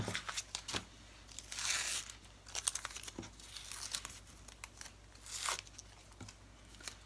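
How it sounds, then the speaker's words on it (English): Crinkly tearing and peeling noises come in bursts with short pauses, close by and fairly quiet, with no talking. "I'm going to get this tape off"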